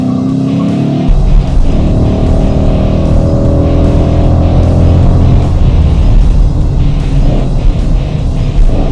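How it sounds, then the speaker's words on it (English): A V8 muscle car accelerating hard under full throttle, its engine note rising loud and close as the revs climb, with a steady broadband roar and a few brief rhythmic pulses across the run. "as soon as you step on that throttle, the power just really rips this car around"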